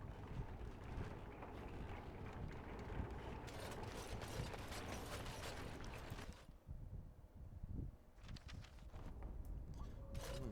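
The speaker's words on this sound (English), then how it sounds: "There's like cogs and whirring and different bits up there." Whirring cogs and gears inside Redcliffe Castle in the Dragon Age: Origins video game, a faint continuous mechanical churn with ratcheting clicks and creaks, steady throughout and briefly dipping near the end.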